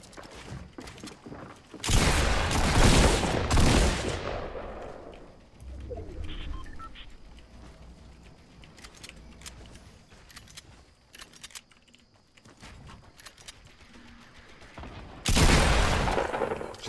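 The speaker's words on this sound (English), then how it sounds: "Why is the scar sound so bad, you know?" SCAR rifle fire in a video game comes as two loud bursts of rapid automatic shots, one early and one near the end. Quieter game sounds fill the gap between them.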